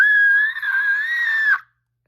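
A voice imitates a velociraptor screech with one loud, shrill, wavering cry lasting about a second and a half, then cut off abruptly.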